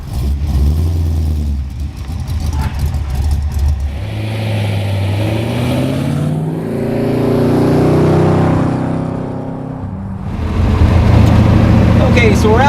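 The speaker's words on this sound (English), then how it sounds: "So we're out driving the 67 Fastback" A 1967 Ford Mustang Fastback engine rumbles while driving, deep and loud, rising and falling through revs and gear changes with a strong surge near the end; a voice talks over it.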